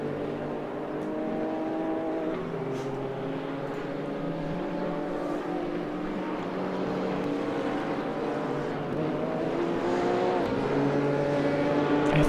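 A GT3 race car engine in the racing game RaceRoom at Circuit Zolder drones steadily and close, its pitch climbing gently and growing slightly louder as the car accelerates, with no talk over it.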